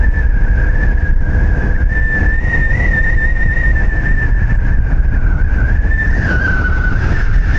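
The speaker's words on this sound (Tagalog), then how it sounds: "Sumisipol yung hangin sa loob ng helmet pag yung nakabukas." A loud, steady whistle of wind inside an open motorcycle helmet on a CF Moto CLC-450, with wavering pitch over a heavy low roar of rushing air and road noise, continuous and close.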